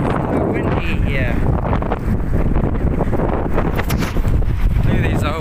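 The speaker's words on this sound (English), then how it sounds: "It's so windy here." Heavy wind on the road between Dunedin and Bluff, New Zealand, roars and buffets the microphone throughout, while people talk beneath the gusts.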